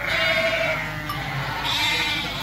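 Ewes bleat continuously in a loud, overlapping chorus close by, a flock crowding around grain at feeding time.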